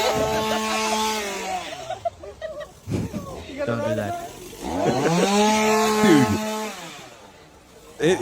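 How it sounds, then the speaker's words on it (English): A chainsaw runs and revs in a played video, its buzzing drone rising and falling beneath people talking loudly over it. "a guy with a chainsaw is chasing a man"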